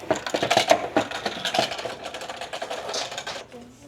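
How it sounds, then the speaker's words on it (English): A salad spinner spin-drying rinsed garden leaves, a rapid clattering plastic whir with ratcheting clicks that is loudest early and gradually slows and fades, nearby and without talk. "I'm going to spin it dry."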